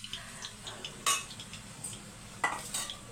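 Cooked rice being mixed in a pot with a metal spoon for brinjal garlic rice, a few light scraping clinks of metal against the vessel, close and fairly quiet over a soft low hiss.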